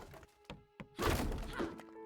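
Melee strikes land on training dummies in the fantasy game Chronicles of Galdurvale: a few quick soft thunks, then a heavier crunching, shattering impact that trails off, all fairly quiet.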